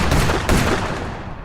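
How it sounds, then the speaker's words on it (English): Gunfire in a scene from the TV series 1923: loud, rapid bursts of shots close together in a brief, dense volley, with no talking. "I counted 3 gunshots, which is one too many for him to come out alive."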